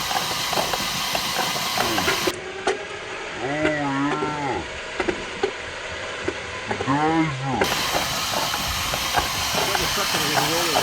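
A junkyard Atlas 4200 engine with its spark plugs out and cylinders full of oil cranks with a loud, continuous hiss and spray of oil, as wavering whirring tones rise and fall, under excited voices.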